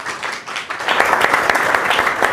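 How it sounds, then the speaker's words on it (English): An audience at a food and drink event in London applauds the venue team; the broadband clapping builds from a softer start into a steady, full round that holds near and loud to the end. "Give a round of applause to them as well."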